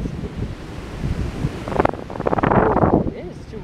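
Strong wind buffets the microphone at a beach by the sea, giving a constant rough roar with gusty swells. Waves wash faintly underneath.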